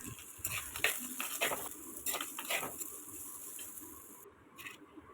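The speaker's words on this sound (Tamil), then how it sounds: "வதக்கினதை ஒரு பிளேட்டுக்கு மாற்றிக்கிறேன்" Sautéed garlic, curry leaves and onion are scraped out of a pan onto a plate, a run of close metallic clinks and scrapes over a soft sizzle that fades toward the end.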